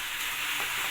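Mashed potatoes stirred into a potato kurma in a pan, a brief, continuous hiss and sizzle up close, with no talking.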